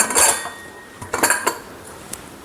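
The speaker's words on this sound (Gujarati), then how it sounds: "હવે આપણે કુકરનું ઢાંકણ બંધ કરી લઈશું" A pressure cooker lid is set in place and closed over pav bhaji vegetables, giving a few sharp metallic clanks and clinks in quick bursts, close and fairly loud, with no talking.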